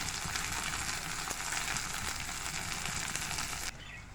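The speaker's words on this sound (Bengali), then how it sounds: "এখানে পেঁয়াজ আর টমেটোটা কিছুটা ভাজা হয়েছে" Continuous loud sizzling and hissing of onion and tomato frying in a pan, dense and steady, cutting off abruptly near the end.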